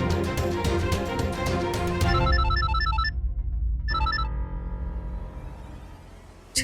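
A phone rings with a bright, repeating electronic tone, alone under a dramatic musical swell, pausing and starting again, fairly loud and close.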